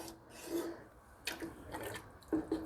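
Fire-roasted diced tomatoes and chicken broth are stirred in a soup pot with a spoon, making wet sloshing and scraping rubs in a few separate bursts, close and moderately loud.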